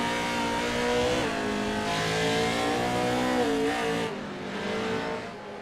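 A Pro 4 Mitsubishi race truck on a dirt short track drops through gears, its loud engine note stepping down in pitch with each downshift before revving back up and fading as it moves away.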